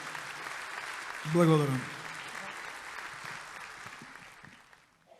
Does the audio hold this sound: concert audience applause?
yes